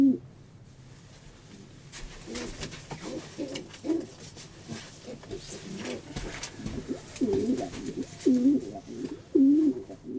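Pigeons coo in a loft, low throaty rolling calls repeating close by amid light rustling and shuffling, growing more frequent toward the end, with no talk.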